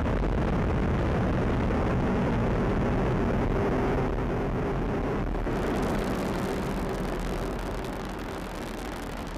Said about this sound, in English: liftoff of the AEHF-4 mission carried by United Launch Alliance Atlas V rocket